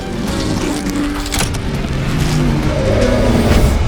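An AC Cobra Dragonsnake racing car at the Goodwood Revival gives a loud, continuous engine roar with a rising and falling pitch. There are faint tyre squeals, and a crowd-like wash sits underneath.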